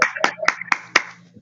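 One person claps five times at a quick, even pace, each sharp clap close and clear, while a faint hum runs underneath.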